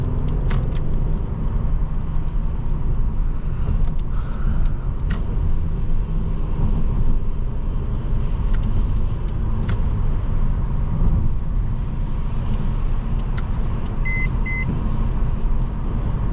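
A 2015 Mercedes-Benz E350 4MATIC engine growls while driving, a steady deep rumble heard from inside the cabin, with a few faint ticks and a brief electronic beep late on.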